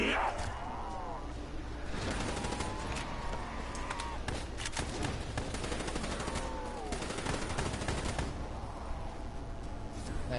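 Shotgun blasts from a Black Ops 3 Zombies match crack out in bursts amid dense, continuous game action, with a few sharp loud reports over busy background noise.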